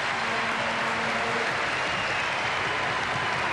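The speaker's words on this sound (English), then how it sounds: "How about a round of applause for Mr. Tyson?" An arena audience at a slam dunk competition applauds in a dense, continuous roar of clapping, loud and unbroken throughout.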